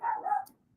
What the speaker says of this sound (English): You can hear him barking in the background.